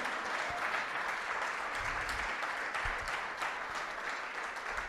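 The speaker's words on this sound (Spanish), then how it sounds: "Fuertes aplausos a Él." A church congregation applauding, sustained dense clapping from many hands filling the room evenly for several seconds, steady and moderately distant, with no speech over it.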